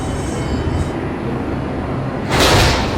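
A New York subway 1 train runs with a steady loud rumble and rail noise, rising into a brighter, louder rush near the end.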